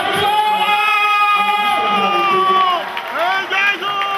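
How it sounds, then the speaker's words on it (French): A crowd at a charity association event cheers and claps loudly, whoops and shouts layered over a continuous wash of applause, with a voice cutting through briefly. "On acclame."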